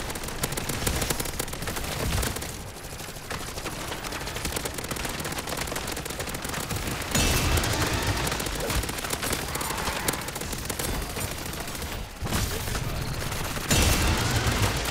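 Dense automatic gunfire from several weapons at once in the Call of Duty MW3 Zombies mode, loud and continuous for the whole stretch with brief dips.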